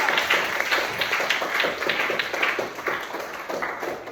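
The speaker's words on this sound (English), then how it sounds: "Give her a round of applause." A physical education class claps in a round of applause, a moderate, fairly even patter of many hands lasting a few seconds with no voices over it.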